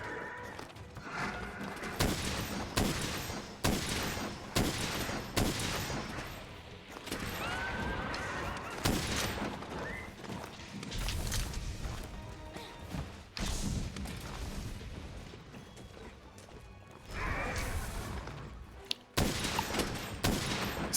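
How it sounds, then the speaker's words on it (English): Spread ammo shots fired at a monster in Monster Hunter: World, heard as repeated booming blasts with thuds spread through a long stretch of busy, layered game sound. "I'll just shoot her with spread too"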